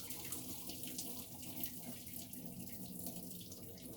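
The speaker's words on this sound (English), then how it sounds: "now I let the water fall out of there" Hot water pours out of a pot as cooked tortellini are drained into a sink, a steady, fairly quiet rushing stream with no talking.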